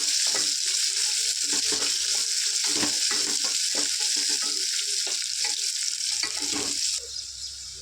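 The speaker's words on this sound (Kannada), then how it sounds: "ಒಂದು ಉದ್ದುದ್ದಕ್ಕೆ ಕಟ್ ಮಾಡ್ಕೊಂಡಿರೋ ಒಂದು ಈರುಳ್ಳಿ ಎಲ್ಲ ಚೆನ್ನಾಗಿ ಕಲರ್ ಚೇಂಜ್ ಆಗೋವರೆಗೂ ಫ್ರೈ ಮಾಡ್ಕೋಬೇಕು" Sliced onion frying in oil in a pan for aloo biryani, a bright continuous hiss of sizzling with stirring scrapes, close and loud, easing slightly at the end.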